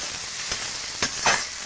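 Pangas fish frying in a pan with chopped tomato and spices, a steady close sizzle broken by a few brief scraping bursts of stirring.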